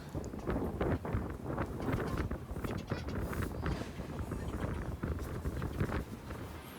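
Strong gusty wind buffets the microphone outdoors as a loud, rumbling roar that swells and dips throughout.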